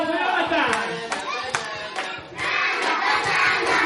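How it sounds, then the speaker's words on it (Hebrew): Children and adults clapping and cheering at a fifth birthday party, a loud, dense crowd with rhythmic clapping bursts and shouting voices throughout, close and lively. "כפיים חזק למעוז ויונתן"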